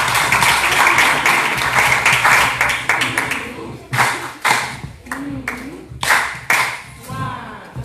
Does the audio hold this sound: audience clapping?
yes